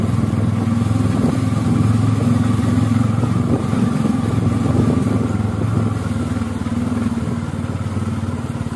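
A Bajaj Pulsar F250 motorcycle being ridden on a rough road under construction hums with a steady, loud engine drone close to the microphone, holding an even throttle throughout.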